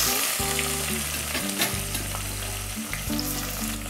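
Onion fries with cashew nuts in a pan for Kashmiri pulao, producing a steady close sizzle that runs the whole time beneath background music.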